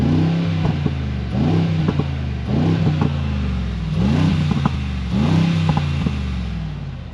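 A 2024 Mercedes G63 AMG with its exhaust valve open in Sport Plus mode revs repeatedly, each loud, close rising bark dropping back with crackling pops, about five blips in a steady rhythm with no talking.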